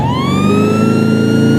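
A police car siren in an Xbox video game wails loud and close, one continuous rising tone with layered engine rumble underneath, and no one speaking over it.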